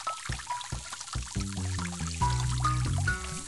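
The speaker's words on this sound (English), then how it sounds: "The water is going through the pipe." Cartoon water pours and gurgles through a pipe in a children's science app game, a steady flowing stream with bright tonal game chimes and musical notes layered over it, moderately loud throughout.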